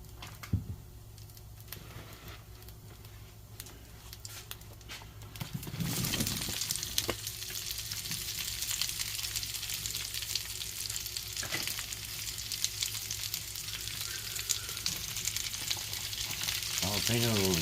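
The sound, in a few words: peppers, onions and jalapenos frying in a pan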